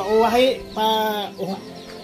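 Chicken clucking and calling in short bursts, fairly close, with a pause between calls, from one-month-old chicks; the bursts sound like fowl rather than peeping chicks.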